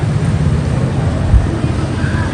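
Cold wind blowing hard outdoors in the aftermath of a storm, a continuous loud low rumble buffeting the microphone close up, with no clear voices.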